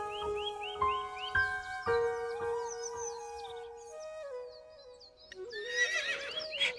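A cartoon horse pulling a landlord's carriage gives a loud, bright whinny at the end, preceded by steady clip-clop hoofbeats under a cheerful melodic music track.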